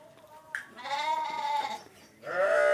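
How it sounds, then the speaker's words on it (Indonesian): Sheep being fed call out in several loud, wavering bleats, one short and a longer drawn-out one, then another rising at the end, close by with no talk. "Ke dia keur marab domba kami mah jeung budak."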